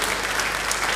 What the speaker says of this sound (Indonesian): Beri tepuk tangan yang baik engkau yang percaya.